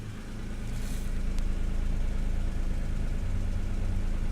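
A 1992 Acura NSX sports car idles steadily up close, its exhaust giving a low, even rumble with no backfires, running alone without talk for several seconds.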